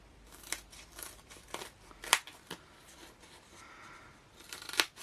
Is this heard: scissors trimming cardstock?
yes